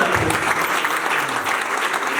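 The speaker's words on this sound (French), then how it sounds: "je vous prie de faire un tonnerre d'applaudissements" Thunderous applause fills a civil wedding ceremony, a dense steady clapping from a crowd of guests that holds at an even, loud level throughout.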